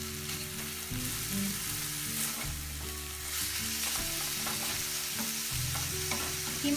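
Minced keema frying in a small amount of oil, a soft, steady sizzle under intermittent scraping as the meat is stirred and turned in the pan, with a low background hum throughout.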